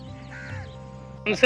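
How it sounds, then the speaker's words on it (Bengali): Crows caw briefly in the late afternoon, one harsh call ending the moment, with fainter cawing earlier over a low background rumble. "গাড়ি প্লাস কাকগুলো দেখো"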